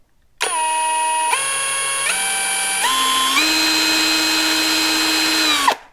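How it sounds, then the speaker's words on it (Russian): A LYUOWO LW CZ20 cordless impact driver spins up and runs steadily, its whining motor tone stepping up in pitch several times as the speed changes, then winds down and stops. "Скорости меняются ступенчато. Вы это, наверное, услышали."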